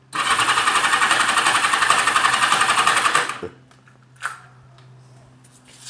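A motorcycle engine runs loud and steady at close range for about three seconds, then cuts out abruptly, leaving a quiet hum with a faint knock or two.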